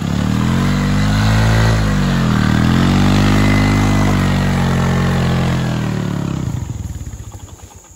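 A motorcycle engine runs loud and close on a forest road, its revs rising and falling, then sputters and winds down to a stop.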